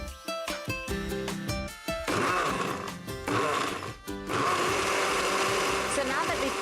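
A kitchen blender pulses a tea infusion with ice cream for a Five Roses Earl Grey, cinnamon and honey milkshake, loud whirring bursts that stop and start, then a longer sustained grinding run near the end.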